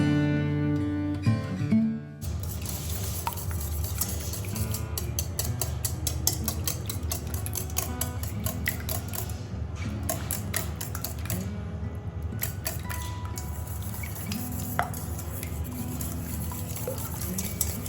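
Eggs for macaroni are beaten in a bowl: a brisk run of rapid, clicking taps from a utensil against the bowl that goes on steadily, close and fairly soft, after a brief pause at the start.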